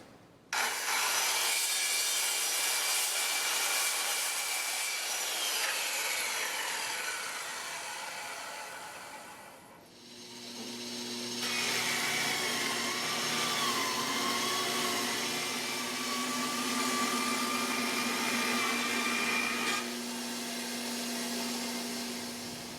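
Tenor guitar side wood is cut to length with a hand saw and then ripped to width on a bandsaw, giving a steady, loud whining cut that pauses briefly before resuming with a rising tone.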